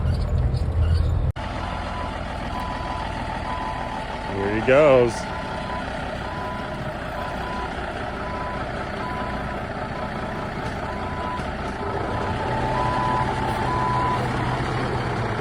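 A Kenworth W900 dump truck with a Cat 3406E engine dumping its load, heavy diesel rumble with a steady reversing beep, an air-brake hiss partway through, and voices over the top.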